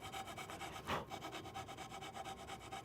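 A fine-tooth saw blade, about 20 teeth per inch, cuts through wood for a turned yarn bowl, giving a close, steady run of rhythmic rasping strokes with one brief louder scrape partway through.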